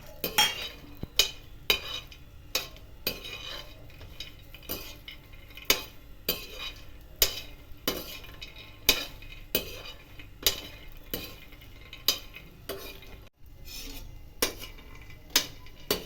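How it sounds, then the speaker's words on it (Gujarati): Dry fruits and makhana roasting in a pan, stirred with a metal spoon: a steady run of sharp clinks and scrapes against the pan every second or so, close and clear, over a faint low hum, with no one speaking. "ડ્રાયફ્રૂટ પણ શેકી દઈશું. નોર્મલી શેકવાના છે."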